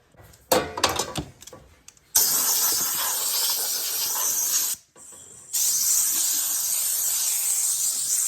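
Compressed air blasts into the planing head of a Delta 12-inch planer: a few short rattling bursts, then a long loud steady hiss, a brief pause, and another sustained hiss, close to the listener.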